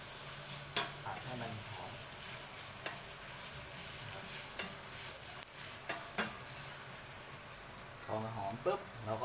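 Shrimp and squid are stir-fried in a hot pan with chili paste for tom yum fried rice, a soft steady sizzle broken by sharp spatula scrapes and clanks, with talking at times.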